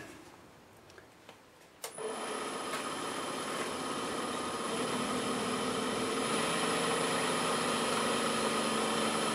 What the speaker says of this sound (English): I'm going to start out with a carbide hollowing tool and just slowly get that off and blend it into the bottom